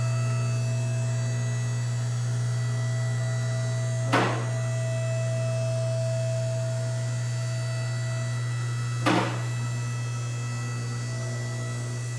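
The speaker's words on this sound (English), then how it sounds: "we got her on the lift. Sending her up" Electric car lift raising a VW Beetle in a garage: a steady, even motor hum drones throughout, broken by two short mechanical clunks spaced several seconds apart, with no talking.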